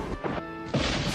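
A ball smashes a picture window: a sharp crash followed by a burst of breaking glass, loud and close, within a short noisy moment.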